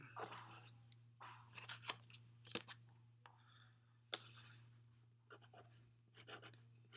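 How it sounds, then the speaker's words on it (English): A pencil sketches loose, free lines on paper taped down with blue painter's tape, giving soft intermittent scratchy strokes at close range over a steady low electrical hum, with no speech. "See how loose and free I'm drawing?"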